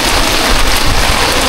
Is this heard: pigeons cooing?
no